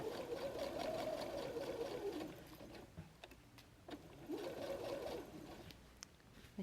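A sewing machine stitches a pocket onto a messenger bag in two bursts of rapid, steady whirring, with a short pause and faint handling clicks between them.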